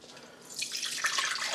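Lemonade is poured through a strainer into a measuring cup, a soft trickle that swells into a steady splashing stream partway through.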